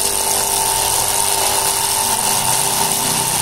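A machine fitted with a modified water pump impeller runs steadily, giving a loud, constant whine and hum heard close by for a few seconds.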